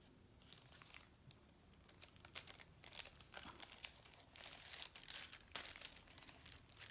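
Rice paper for a mixed-media art journal crinkles and rustles in quiet, irregular bursts close by, growing busier toward the end.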